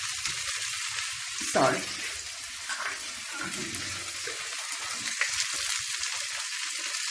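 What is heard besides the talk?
atta and pea snack frying in pan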